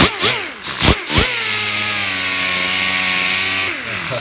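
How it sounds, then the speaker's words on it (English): Small handheld power tool with a Scotch pad polishing the end of an aluminum exhaust, a few short revving bursts and then a loud, sustained high whine close by that winds down at the end. "I did use my Scotch pad here on my little power tool to clean up the end of this"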